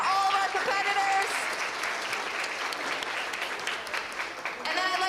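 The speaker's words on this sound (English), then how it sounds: "let's get a huge round of applause for all of our competitors" Sustained applause from an audience at a secondary school geography bee, a steady dense clatter of many hands lasting throughout, with faint voices mixed in beneath.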